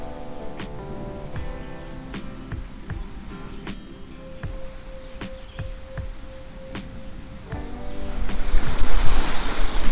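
Waves wash onto a beach by Portage Bay near Peninsula Point in Michigan's Upper Peninsula, a steady rolling surf with light wind that grows louder and fuller toward the end.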